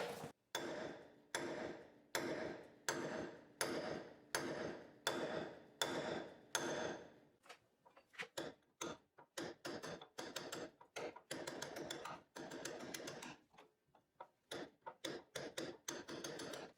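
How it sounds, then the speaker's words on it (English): Hammer blows drive an old inner bushing sleeve out of a shackle hanger during a DIY front lift job, first in a steady run of sharp metallic strikes, then faster, lighter, irregular taps, close by. "first we need to drive out this inner sleeve, then we can chunk out the old rubber bushing"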